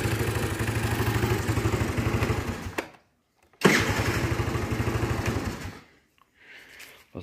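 A Lifan scooter engine starts and runs with a loud, close, rapid rattling putter, cuts out briefly into silence, fires up again and runs steadily before dropping away, followed by a faint lower hum.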